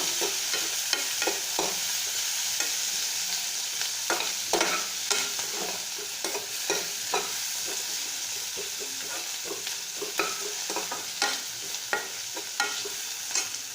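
Onion frying in oil in a pan while cooking fish with fermented bamboo shoot: a steady, even sizzle with frequent light clicks and scrapes of stirring throughout.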